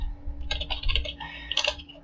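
Fingers type Python code on a computer keyboard in a short burst of soft, close key clicks, irregular and quick, over a faint low hum.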